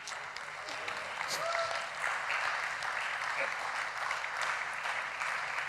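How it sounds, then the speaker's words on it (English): Audience applause rises from a crowd as performers are invited up, a steady wash of clapping at moderate distance, with faint voices and a few whoops mixed in. "Let's give a big round of applause as they come on up."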